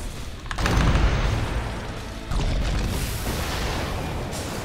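Explosion-like bursts from the video game Dota 2: a loud booming, crackling burst at about half a second, then a second sustained blast at around two and a half seconds that rumbles on to the end.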